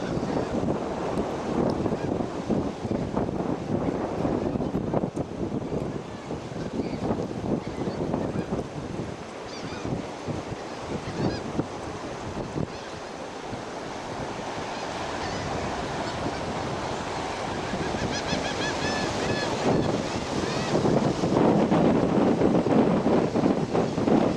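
Steady wind gusting across a harbor, with continuous broadband rushing and buffeting against the microphone that swells slightly toward the end, and a faint wash of water underneath.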